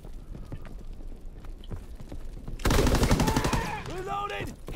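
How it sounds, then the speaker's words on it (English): Shotgun blasts in Call of Duty: WWII, a loud burst of rapid heavy gunfire crashing in midway through the clip after quieter battlefield noise, with other combat sounds layered over it. "This is a shotgun"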